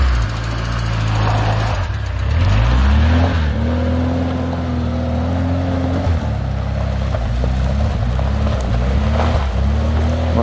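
An engine revs and strains as a car works along a rough mountain track, its pitch rising and falling with each push. A low rumble and rattling run underneath throughout.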